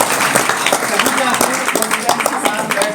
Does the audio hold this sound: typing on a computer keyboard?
no